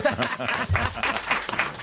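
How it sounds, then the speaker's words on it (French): Brief burst of canned applause sound effect on a French TV show, under overlapping chatter and a chuckle, clapping rising and falling over a couple of seconds. "je regarde, j'envoie les applaudissements"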